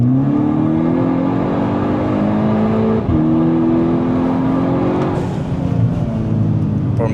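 A Golf GTI Stage 3 accelerates hard, engine pitch climbing steadily through the revs, breaking briefly at a gear change, then pulling up again, loud and close throughout.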